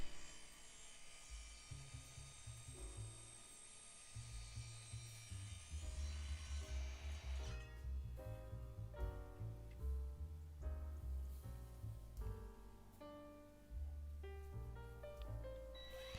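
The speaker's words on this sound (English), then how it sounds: "Now onto some aluminium pipe." An Evolution R185SMS-Li cordless 185mm sliding mitre saw cuts aluminium pipe, with a motor whine spinning up, a grinding bite through the metal and then a stuttering, ringing rundown, fairly faint and with no voices.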